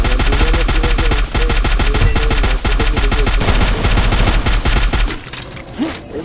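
Rapid automatic gunfire rattles loudly in the mobile shooter Free Fire, continuous bursts for about five seconds before easing off into scattered shots and game effects.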